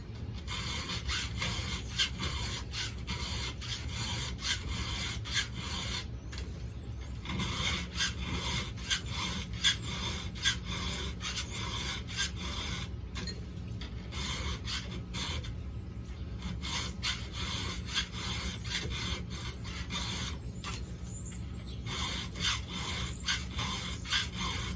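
A round hand file sharpens a 3/8 full-comp chainsaw chain, producing continuous, close, rhythmic rasping strokes that repeat in quick succession with brief pauses, loud and alone without speech.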